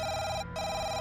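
A landline telephone rings with congratulation calls, a bright, steady electronic ringing tone broken by one short gap, loud and close, with no talking.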